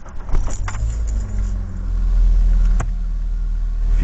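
A manual-transmission car engine cranks and starts while the car sits in first gear with the pedals pressed, a low steady rumble building after a brief crank and settling into a close idle.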